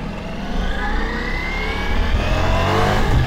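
A Ducati Multistrada V4S motorcycle accelerates hard in sport mode, its engine note rising steadily and loudly with wind rush over the whole stretch, close and continuous, no voices.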